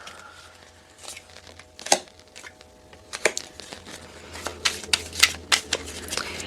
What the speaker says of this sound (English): I'm going to keep on doing my shuffling and I'm not going to fast forward